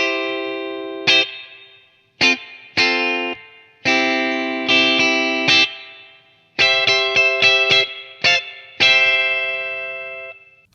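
Slow soul guitar riff built from triads on the top three strings, with distorted, chorused tone: clean, bright chord stabs and short strummed groups separated by ringing decays and pauses, played alone.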